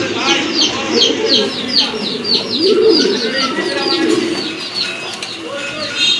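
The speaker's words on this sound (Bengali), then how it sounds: "মাশাআল্লাহ আরেক জোড়া কবুতর, এটা হচ্ছে আপনার একটা রেড কালারের নর রাজগোল্লার" Domestic pigeons, including a red male, coo and chirp at a busy pigeon market, a dense layered chorus of many birds heard close by with some background voices.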